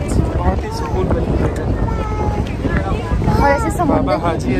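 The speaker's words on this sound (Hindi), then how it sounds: "इतनी सुनहरी हवा चल रही है यहाँ पे" A breeze blows steadily across the microphone at the Haji Ali dargah, a low, constant rush that sits beneath voices and crowd murmur throughout.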